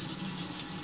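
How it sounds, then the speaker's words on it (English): Water runs steadily from a kitchen tap into a sink fitted with a garbage disposal, a close, even rushing hiss with no pauses. "Let's add some water."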